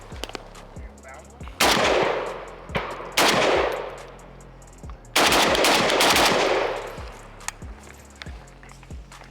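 A Krebs Custom M23 prototype AK-pattern rifle fires loud, sharp shots at close range, with single reports broken by several rapid strings, each followed by ringing decay.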